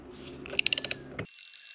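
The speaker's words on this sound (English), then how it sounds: "Remove two bolts. They may go a little bit harder because they are pretty tightly screwed in," A ratchet wrench loosens tight brake caliper bolts on a Can-Am Spyder, giving a quick run of about six sharp, evenly spaced clicks close by, followed by a brief metallic tail.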